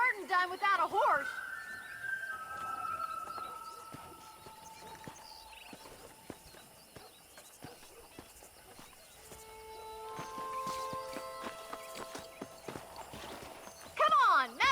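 Horse hooves clip-clop steadily in Red Dead Redemption on a cattle-herding ranch, with a horse whinnying at the start and end, music and a voice speaking under the rhythmic steps.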